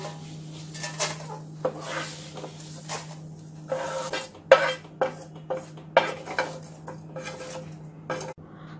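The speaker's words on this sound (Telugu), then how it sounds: "అదే ప్యాన్లో ఇంకొంచెం నెయ్యి వేసుకొని సేమియాను వేసుకొని వేయించుకోవాలి. లో ఫ్లేమ్లో కలుపుతూ వేయించుకోవాలి." Vermicelli frying in ghee over a low flame, stirred with a utensil in a pan, giving repeated light scraping clicks and taps against the metal over a steady background hum, close and moderately loud.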